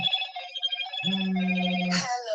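A telephone ringtone chimes in a home during a talk show, a repeating electronic melody that is clear and fairly close, with a brief burst of other noise near the end.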